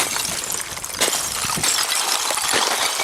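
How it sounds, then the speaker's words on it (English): Frozen hard ice on Taranaki mountain breaks off and tumbles downslope in a bright, steady tinkling, like countless small glass shards clinking together, continuous and fairly close with no voices. "This is the sound of this frozen hard ice."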